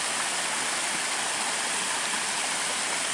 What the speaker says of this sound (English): It's one of many waterfalls along the Armstrong Trail.